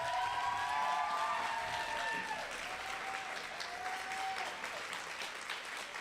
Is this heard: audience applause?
yes